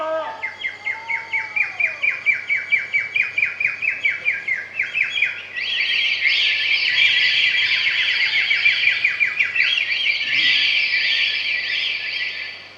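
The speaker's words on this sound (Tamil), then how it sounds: "நிறைய பறவை சத்தம் கேட்குது" Loud, close bird chirping during a Tamil stage drama, Valli Thirumanam: a fast series of repeated sharp tweets that turns into a continuous, busy warbling trill.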